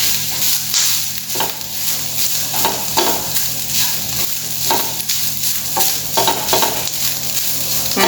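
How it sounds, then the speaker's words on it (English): Garlic and ginger sautéed in a pan, a loud close sizzle with rhythmic bursts of stirring as the spoon pushes the mixture around every second or so. "And now we'll saute it till it turns light brown in color."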